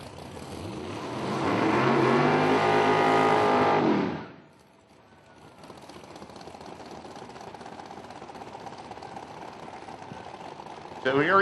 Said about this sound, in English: That is a awesome, awesome sound of big, huge cubic inches sitting in that Chevrolet in the left side.